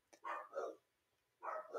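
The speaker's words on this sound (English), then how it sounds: "is barking in the background. He sees someone walking outside." A dog barking in the background inside a home, a few short, faint barks in two bursts separated by a pause.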